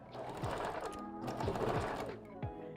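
A sewing machine backstitching a wig closure runs in a steady close mechanical whir with a rapid needle patter and brief pauses and restarts.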